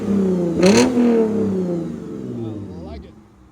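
Lexus RC 350 with a 3.5L V6 and muffler delete, its exhaust giving one quick throttle blip that rises sharply then decays into a lingering idle, close and loud, with a voice speaking over it.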